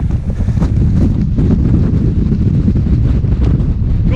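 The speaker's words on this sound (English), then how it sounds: "Gorgeous, but incredibly windy." Strong gusting wind roars across a microphone on an exposed fell ridge above Wasdale in the Lake District, loud, continuous and buffeting throughout with no speech.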